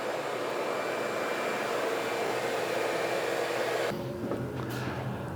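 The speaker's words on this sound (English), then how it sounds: "it just vacuumed all that up without the router on" A homemade shop dust collector vacuum roars loudly and steadily as a broad rushing whoosh, then its tone shifts abruptly near the end, with no voices over it.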